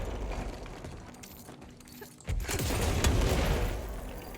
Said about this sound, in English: It was fireworks. Which people are apparently lighting from the parking lot.